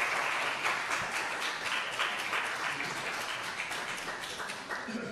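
Applause fills the Dáil Éireann chamber in Ireland after a vote on a fracking ban bill, a dense, sustained clapping from a crowd that keeps going for several seconds before slowly thinning.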